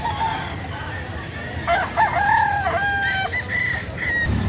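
A bull stag rooster crows once at a poultry market in Lipa, Batangas, a clear cock-a-doodle-doo rising over steady crowd and market noise.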